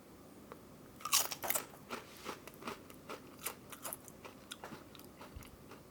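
A spicy chip is bitten with a loud close crunch, followed by several seconds of quieter crackly chewing crunches, no talking.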